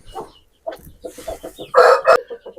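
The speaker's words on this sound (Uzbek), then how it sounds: "Mana xo'roz, qora xo'roz ishqibozlar uchun." A black rooster sounds up close, short clucks leading into a loud crow, with a sharp knock partway through.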